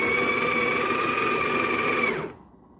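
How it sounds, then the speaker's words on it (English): Burr grinder on a Breville BES840XL setup grinding fresh coffee beans fine for espresso, a loud steady whirring drone close by that stops abruptly near the end. "it's time to use a burr grinder to grind fresh coffee beans to a fine consistency, perfect for espresso"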